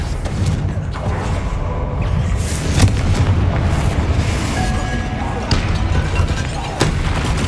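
Fiery spell blasts from a Hogwarts Legacy duel, a string of booming explosions and impacts over dense, rumbling game music and effects, loud and close with sharp bursts recurring every second or so.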